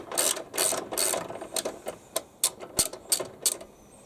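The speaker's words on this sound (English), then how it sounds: "I've got my 10mm socket and a 10mm spanner to hold the nut." A 10mm socket ratchet undoes a nut on a gearbox bracket, giving close, loud bursts of rapid pawl clicking, with several longer runs early on and then shorter sharp clicks spaced about every half second.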